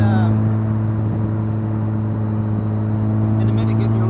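Steady engine drone from a home-built Lotus 7 replica with a turbocharged RX7 rotary engine, heard from inside the car, with strong low harmonics holding fairly even pitch and speech beneath it.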